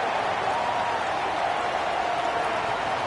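Dense, steady roar of a stadium crowd at a playoff football game, a broad wash of cheering and noise holding level and loud throughout with no clear breaks.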